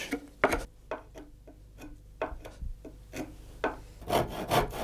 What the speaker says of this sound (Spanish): El serrucho de costilla es la herramienta que utiliza el carretero para cortar tanto el sobrante de los radios como las espigas